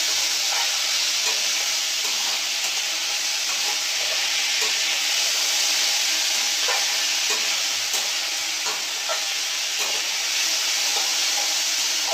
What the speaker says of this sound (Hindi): अभी मैं एक साथ भून लूँगी कुकुम्बर, टमाटर, सूखी मिर्च, सरसों का दाना को।